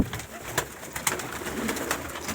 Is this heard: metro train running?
no